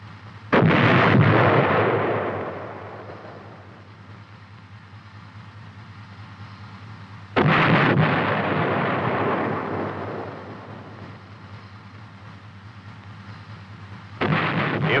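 Three booming main-gun shots from an M551 armored reconnaissance vehicle firing HEAT rounds, each a loud heavy blast with a long rumbling decay, spaced about seven seconds apart over a steady engine idle.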